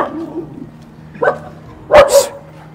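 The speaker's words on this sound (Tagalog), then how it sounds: "May aso." A dog barks nearby, a short bark followed by two sharp, loud barks in quick succession over quiet background noise.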